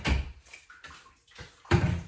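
Animal capes are stirred in a tub of tanning pickle solution, giving close, uneven sloshing and swishing strokes, with one louder splash near the end.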